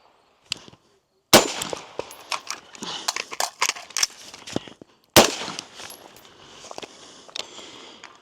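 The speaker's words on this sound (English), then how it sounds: "Let's move on to rifle now." Rifle shots at an outdoor shooting range, sharp loud cracks fired one at a time with uneven gaps, some echoing, and a few quieter clicks and handling noises between them.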